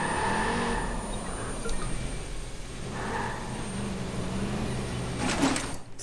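A car engine in the video game Watch Dogs 2 rumbles and swells in revving bursts, fairly quiet and steady, with a brief whoosh near the end and no talk.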